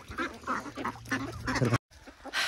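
Three-month-old ducks quack repeatedly in a close, busy chorus of harsh calls, with a short break before more quacking resumes.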